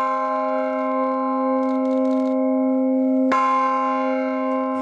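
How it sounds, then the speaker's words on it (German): A church bell of the Dresden Frauenkirche rings up close with a loud, sustained, humming tone. A fresh strike partway through renews the ringing before it slowly fades. "Glocken zum Anfassen, bevor sie von den Glockentürmen der Frauenkirche zu hören sind."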